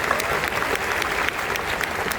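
An audience at a Delhi University college fest claps loudly and steadily in a dense burst of applause, close and continuous with no talk.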